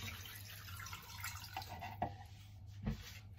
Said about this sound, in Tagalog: Lagyan po natin ng water po.